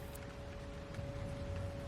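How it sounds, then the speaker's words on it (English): Steady rain patters on a van's awning at a campsite, a dense continuous hiss with a faint constant tone beneath, even and moderately quiet throughout with no voices. "It's still raining out there,"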